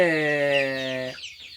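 Country chickens on a coconut grove farm give a loud, close, drawn-out harmonic cackle that cuts off abruptly, leaving faint background noise.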